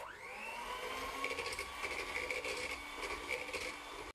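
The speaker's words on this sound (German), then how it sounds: "Das können wir jetzt nochmal verrühren." An electric hand mixer whirs steadily through cake batter of egg liqueur, oil and salt, a high motor whine with rattling beater clatter, close and continuous.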